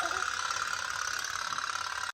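A boat engine runs with a steady, close, mid-pitched drone and faint rattling throughout, then stops abruptly at the end.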